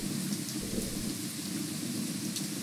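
Steady rain and a low rumble of distant thunder fill a scene in the video game Raging Loop, a soft continuous wash with faint droplet patter and no talk.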